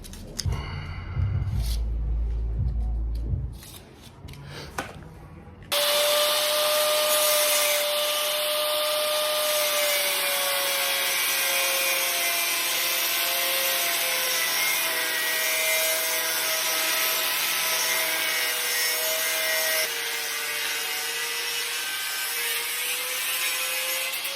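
A steel patch piece is cut out during metal fabrication on a project car, with a loud, steady, whining power cut that starts after a few seconds of quieter handling noises and runs continuously to the end, with no talking.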